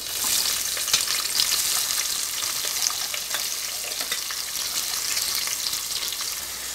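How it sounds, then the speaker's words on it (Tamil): Onions sautéing in oil with spices in a new kadai for spicy mutton biryani, a steady, close, continuous sizzle with faint crackles throughout. "ஸோ நல்லா 5 மினிட்ஸ்க்கு நல்லா வதக்கிக்கோங்க."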